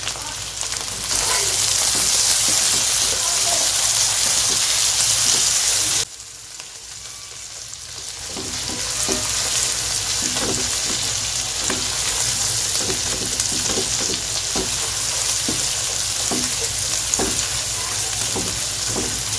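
Cubed tomatoes fry with onions, garlic and ginger on a tawa, a loud close sizzle that drops briefly then returns, with intermittent stirring scrapes.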